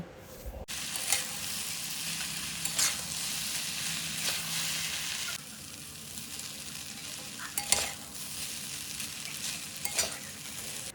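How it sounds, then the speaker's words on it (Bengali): Boiled chow mein noodles with vegetables stirred in a sizzling pan for veg noodles, with a constant hiss of frying broken by several sharp scrapes and clinks of the spatula, heard close and with no talking. "চাউমিন দেওয়ার পর নাড়াচাড়া করে খুব ভালোভাবে মিশিয়ে নেব।"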